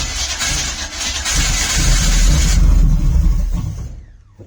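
A Trans Am's engine cranks and sputters, trying to start with the choke on, a close, loud rough churning that builds and then cuts off.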